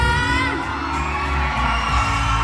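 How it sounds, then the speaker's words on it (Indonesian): A large crowd at an Unduk Ngadau pageant during the Pesta Kaamatan festival in Tuaran cheers and whoops loudly and continuously for a contestant, a dense wall of shouting voices with no pause. "Boleh saya dengar sorakan menyokong Tati Olivia"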